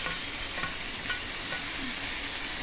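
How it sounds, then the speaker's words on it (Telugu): Chopped tomato tossed into a hot pan for a soya chunk meal maker curry, giving a dense, even sizzle with light stirring scrapes, close and loud, no voices. "కట్ చేసి పెట్టుకున్న టమాటా వేసుకుందాం."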